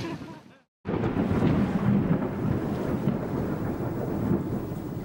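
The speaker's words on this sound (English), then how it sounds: "A fierce storm has us running for shelter." A fierce thunderstorm on a coastal island hits after a brief silent gap, with loud rolling thunder and heavy rain pouring steadily and close, along with gusting wind.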